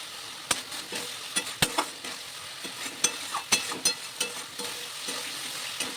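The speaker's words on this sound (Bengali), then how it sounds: "মশলা কষানো প্রায় রেডি হয়ে গেছে" Spice paste for a Bengali rohu fish curry with potato frying in oil and being stirred, a steady close sizzle broken by sharp scraping clicks of the spoon against the pan every second or so.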